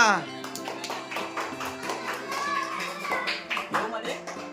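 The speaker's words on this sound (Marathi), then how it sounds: "पोरानो टाळ्या" Children clapping to welcome a new baby home at a family celebration, a burst of quick overlapping hand claps mixed with excited voices and adult chatter close by.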